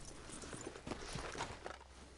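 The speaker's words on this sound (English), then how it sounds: "Get that horse away" Horse hooves clip-clopping in the video game Red Dead Redemption, a quiet run of soft irregular hoof falls over faint background ambience.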